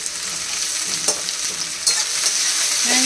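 Food frying in a little oil in a home kitchen, a constant close sizzle with occasional clinks and scrapes of stirring.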